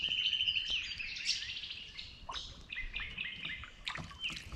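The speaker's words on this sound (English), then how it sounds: "But the sounds of the birds are just beautiful." Birds singing and chirping along the upper Noosa River in the Everglades, high bright calls layered over one another, moderately distant and continuous, with no voices.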